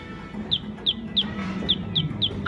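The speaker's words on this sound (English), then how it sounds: "it makes a cute little chirping noise" A ride target gives a cute, high chirp each time it is hit. About six short, bright chirps come in an irregular rhythm over a low rumble of ride noise.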